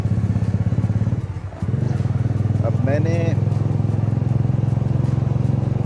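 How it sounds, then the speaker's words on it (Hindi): A tuned motorcycle with freshly changed oil idles loudly and steadily throughout a test ride, its engine hum continuous and close, while someone speaks briefly over it partway through. "बाइक पे जाने के लिए बाइक की थोड़ी टेस्टिंग जो है ना वो करना बड़ी ज़रूरी है"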